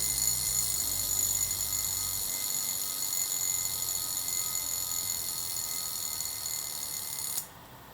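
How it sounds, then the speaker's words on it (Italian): Vintage Seiko Bell-Matic AJ049M (4006-603X) mechanical wristwatch alarm: a continuous, shrill metallic buzz that holds steady for about seven seconds, then stops abruptly. "per inserire l'allarme basta agire sull'apposito pulsante ad ore 2"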